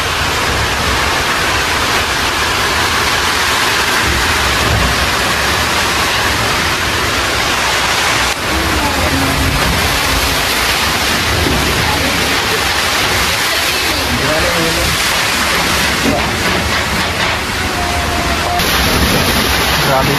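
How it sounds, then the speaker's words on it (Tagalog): Strong typhoon wind and rain from Typhoon Uwan roar as a dense, steady wash of noise, loud and unbroken for the whole stretch, with voices faintly audible beneath the storm. "Ang lakas ng hangin at ulan."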